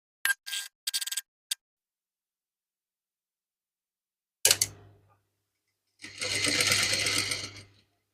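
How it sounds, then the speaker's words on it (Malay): A sewing machine stitching a Baju Melayu collar runs in two bursts, a short one and then a steadier whirring run of about two seconds, after several brief clicks and a pause, close and without speech. "saya guna satu tapak mesin jahit ni"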